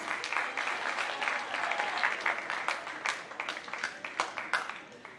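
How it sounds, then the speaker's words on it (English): A middle school assembly crowd applauds its wrestling team, dense steady clapping from many hands in a gym or auditorium, fairly loud and sustained before tapering into scattered claps near the end. "let's give a round of applause for our wrestlers"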